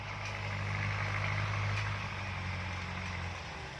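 Mitsubishi GX5000 tractor pulling a rice seeder: a steady low engine drone at moderate distance that holds constant, then eases slightly near the end.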